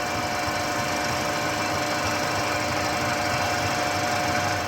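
A 5mm drill bit bores a tapping hole for an M6 thread into a metal bar on a machine, giving a steady, continuous whirring hum that holds unchanged throughout.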